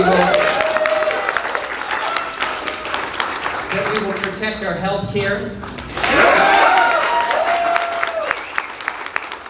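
Crowd applause at a campaign speech in a party headquarters, bursts of clapping and cheering rising at the start and again near the end, with the candidate speaking loudly over and between them.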